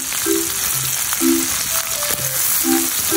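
Garlic sautéing in melted butter in a pan, a steady sizzle and crackle throughout with soft background music.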